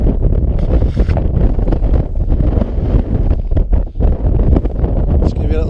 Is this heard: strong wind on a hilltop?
yes